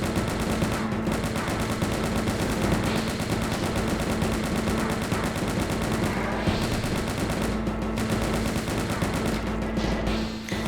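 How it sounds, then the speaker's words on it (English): Chain gun fire in the video game Doom II rattles continuously and loudly, a dense rapid stream of shots over steady game noise, with no talking. "I ran out of rockets, so I have to use a chain gun here."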